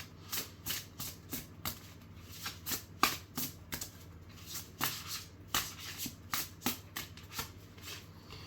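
Tarot cards shuffled by hand in quick repeated riffles and taps, close and moderately loud, with a faint steady hum underneath.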